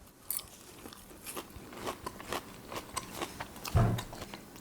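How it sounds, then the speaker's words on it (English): Someone bites into a crunchy breadcrumb-coated Italian veal cutlet, dressed with lemon juice. Several soft crunches and chewing sounds follow at close range, with one louder bite near the end and no talking. "You got that nice little crunch from the breadcrumbs"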